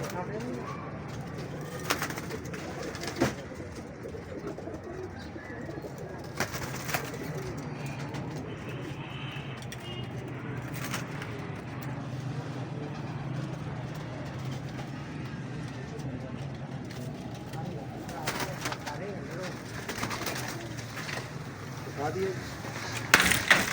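Pigeons in a loft in Lahore coo repeatedly in soft, throaty rolls over a low steady background, with a voice talking at times.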